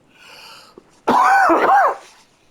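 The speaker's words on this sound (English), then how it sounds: "Sorry about the cough." A single loud, rasping cough up close, following a faint murmur, then silence.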